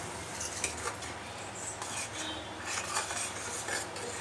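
A spoon stirs yogurt mixed with spices in a pot while making an arbi (taro root) curry gravy, giving soft, continuous scraping and scrubbing sounds with faint clinks, quiet and close.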